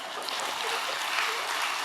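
A church congregation at a Friday night prayer meeting breaks into brief applause, a dense, even wash of clapping that holds steady for about two seconds.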